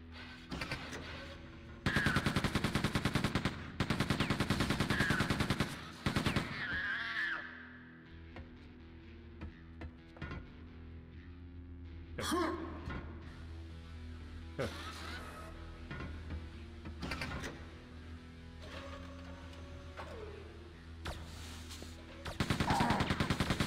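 Loud bursts of gunfire in the video game Quake II: Ground Zero, heavy volleys in several separate blasts with quieter stretches of ambient hum and scattered smaller shots between, and a voice speaking briefly.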